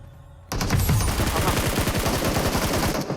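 Sustained rapid automatic gunfire in PUBG Mobile during a solo-versus-squad match, a loud close burst of evenly spaced shots starting abruptly and rattling on for about three seconds.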